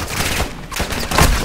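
Firefight gunfire from the Call of Duty Modern Warfare II campaign, a brief burst of rattling shots under shouted battle chatter and background action.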